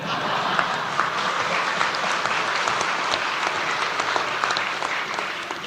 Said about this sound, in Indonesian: Tolong kalau tepuk tangan jangan ragu-ragu ya.